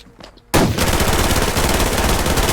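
A sudden burst of rapid automatic gunfire in the video game Survarium starts after a short quiet moment and continues loud and unbroken to the end.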